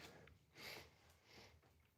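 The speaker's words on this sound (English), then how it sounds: "I got the sniffles." A person with a cold gives a few soft, quiet sniffs in quick succession, close and faint, with no talking.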